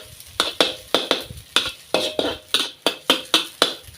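Garlic frying in a wok is stirred with a utensil, making about a dozen sharp, regular scraping strokes against the pan in quick rhythm, with a soft sizzle underneath.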